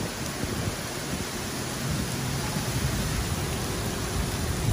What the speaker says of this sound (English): heavy rain with some wind caught me off guard